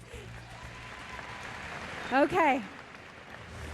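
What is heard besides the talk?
audience applause for Miss World contestants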